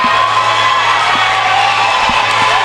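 A college hockey crowd cheers loudly and rises to its feet during the third overtime of an NCAA tournament playoff game, a sustained roar of whoops and shouts with no talk.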